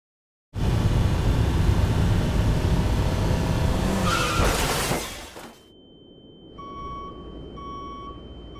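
A car in an accident, a loud sustained roar and screech of skidding that ends in a brief crash, then a quieter hum with repeated electronic beeps afterward.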